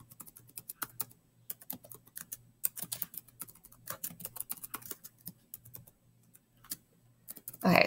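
Brisk typing on a computer keyboard, irregular bursts of clicks with short pauses, close and fairly quiet, ending in a louder rustle.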